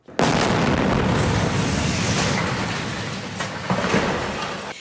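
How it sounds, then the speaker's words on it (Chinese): An Israeli military strike blasts a large hole in an orange building in Khan Younis, southern Gaza, a loud sustained rumbling roar of explosion and debris filling the whole span, with a few sharper bursts late on. "一栋橘黄色建筑当场被炸破一个大洞"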